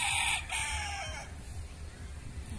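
A rooster crows once, fairly faint and somewhat distant, the call fading out into quiet outdoor background.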